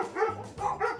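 An excited dog barks twice in quick succession indoors, close and fairly loud, with yelping, whiny tones between the barks.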